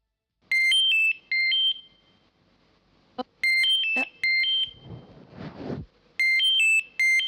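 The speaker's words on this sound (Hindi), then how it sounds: "एक मिनट, घर से फोन है." An electronic phone ringtone repeats in short bursts of bright, looping tones, broken by a couple of sharp clicks and a brief noisy rustle.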